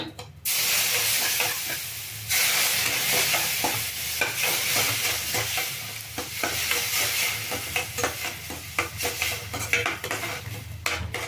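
Rava for a sweet cooks in a pan on low heat while boiled, cooled milk is poured in bit by bit: steady sizzle and bubbling under repeated scraping and clinking of a spoon against the pan.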